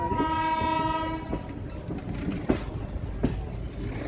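A train horn blares for over a second as an express arrives at Guntakal Junction, followed by the rumble of the rolling train and a few sharp clanks of the carriages.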